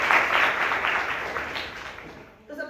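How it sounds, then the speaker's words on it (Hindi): Audience clapping to welcome a student topper at a small government-school event, a steady wash of applause that thins out toward the end, with no voices over it. "तो रिया का एक बार ताली बजा के सभी लोग"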